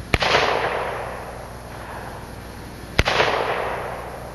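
A rifle fires East German 7.62x39 rounds of roughly 123 to 125 grain into a tree trunk outdoors: two loud, sharp cracks about three seconds apart, each trailing off in a long ringing decay.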